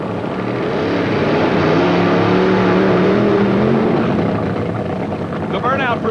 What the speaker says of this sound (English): The burnout procedure performed by all drivers, designed to get the tires as hot as they can and as clean as possible